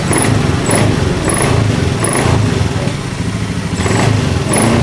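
A Honda Scoopy scooter engine idles close by, then revs in short bursts, its steady low putter rising in pitch several times, with faint high-pitched beeps recurring over the engine.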